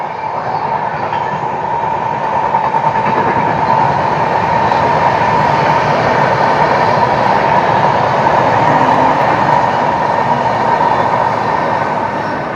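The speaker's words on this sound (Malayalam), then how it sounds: "ആ യെസ് ട്രെയിൻ വരുന്നുണ്ട്" A train rumbles past close by, a loud continuous roar of wheels on rails lasting throughout with faint clattering.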